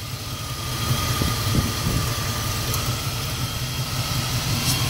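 A carbureted LS engine idles with the cylinder 2 coil disconnected, a steady, fairly loud rumble with only a slight unevenness, heard up close without talk.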